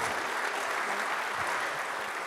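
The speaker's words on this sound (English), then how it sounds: "So give them a huge round of applause." A crowd claps for volunteers at a Kansas City startup pitch event, a dense, steady burst of applause that holds at full strength throughout without any talk.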